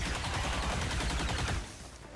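A loud, dense burst of gunfire from an XCOM 2 flanking shot fills the first second and a half, then drops into a fading tail.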